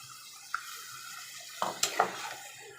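Potatoes are tossed and stirred in a pan for a pabda fish curry, with a few sharp clinks and scrapes of a utensil against the metal over a soft low hum, the knocks clustering toward the end.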